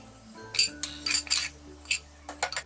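Clinks and light scraping of a spoon against a bowl as roasted sesame seeds are moved into it, several irregular taps in quick succession, close and clear.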